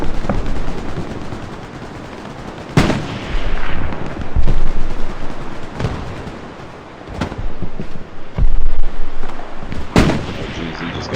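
Sniper and rifle gunfire from the World War II shooter game Hell Let Loose, a 50 vs 50 match: several sharp loud cracks and booms at irregular intervals over a constant rumbling battlefield din, with distant artillery thuds.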